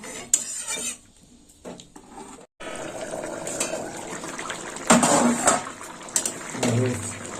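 More water is poured into a pan of papaya curry cooked with chana dal and cashews, giving a splashing, trickling pour and metal clatter after a brief quiet pause, with someone speaking over the cooking.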